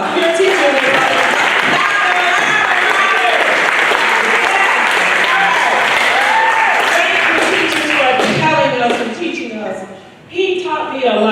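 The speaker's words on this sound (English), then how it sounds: "Give them a round of applause." An audience applauds teachers at an environmental leadership discussion, with loud, sustained clapping that fills the room for several seconds and then thins out as a voice speaks.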